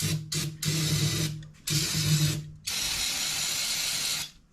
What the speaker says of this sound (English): I'm gonna clean up some of my intake while I have that off with some throttle body cleaner